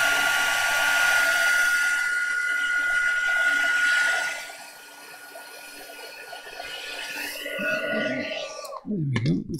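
A heat gun blows hot air onto a book page with a steady whirring hiss for about four seconds, then quieter handling and faint clicks follow.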